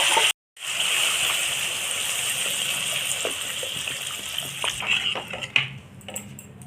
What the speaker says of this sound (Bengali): বন্ধুরা এটা তো কষিয়ে নিয়েছি ভালো করে তো এর মধ্যে জল দিয়ে দেবো